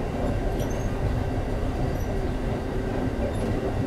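An Amtrak express train rumbles steadily from inside a carriage as it slows, a dense, continuous rolling noise with faint squeals and no voices.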